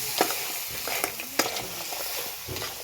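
Ground wet masala paste for a spicy crab curry is stirred and frying in a pan, a steady sizzle with scraping stir strokes and a few sharp clacks, close and moderately loud with no talking.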